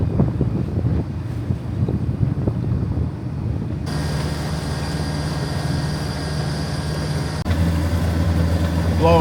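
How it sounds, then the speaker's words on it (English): Strong wind buffets a boat cruising along the coast, a steady broadband roar over a low engine hum that grows more prominent midway, with continuous gusting noise throughout. "Wind is blowing 15 to 20 now."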